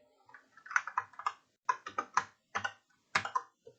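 Quick bursts of computer keyboard typing, clustered in short runs of crisp clicks with brief pauses between them, close and fairly quiet with no voice.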